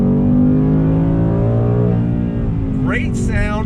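A 2020 Ford Mustang GT PP1 V8 drones loud and close, holding a deep steady engine note that climbs in pitch near the end as it accelerates.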